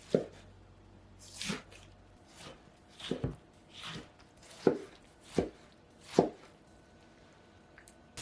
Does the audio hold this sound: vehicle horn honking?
no